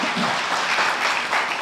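A church congregation at a Sunday service claps together in a dense, steady burst of applause, close and loud, lasting under two seconds.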